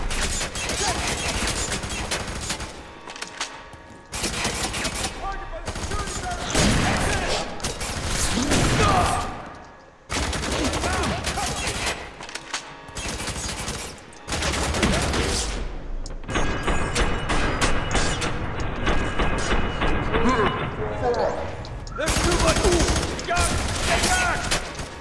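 Dense, sustained gunfire from the first-person shooter FEAR 3, with rapid bursts and automatic fire continuing almost the whole time, loud and close, with brief lulls and a voice occasionally talking over it.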